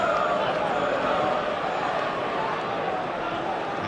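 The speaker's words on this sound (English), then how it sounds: "A crowd that is expectant and noisy and contains the usual large quota down from the northeast" Noisy, expectant football crowd at an Arsenal versus Newcastle match on a crisp day, including a large contingent of visiting northeast fans; a steady, dense roar of many voices fills the stadium throughout.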